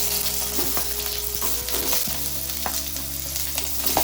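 Onion hitting about two spoons of hot oil in a pan, giving a steady, close sizzling hiss with occasional pops and light stirring scrapes throughout, no voices.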